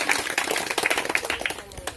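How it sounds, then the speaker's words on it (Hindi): Scattered audience claps welcome a speaker at a company business-plan presentation, a brief burst of sharp, uneven hand claps that is moderately loud and has no talking over it. "सर के लिए एक जोरदार तालियों से स्वागत।"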